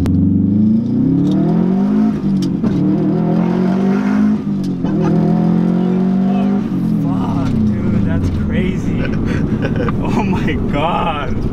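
Engine of a 300 whp Subaru STI wagon pulling hard through the gears, loud rising revs with shift dips heard from inside the car, under steady conversation.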